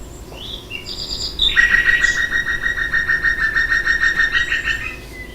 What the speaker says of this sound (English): Several birds singing simultaneously.